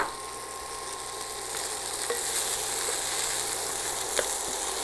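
Tindoora, also called koveka, an ivy gourd vegetable, sizzles steadily in a hot pan as it is stir-fried, a constant fairly loud hiss with faint scrapes and a couple of sharp clicks, no talking.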